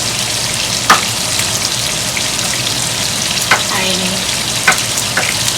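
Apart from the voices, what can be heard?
onion and garlic frying in a pan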